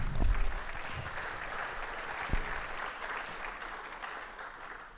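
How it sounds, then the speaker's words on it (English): An audience at a golf teaching and coaching summit claps for about five seconds, loud at first and then tapering off, with no talk over it. "You can clap if you want or not."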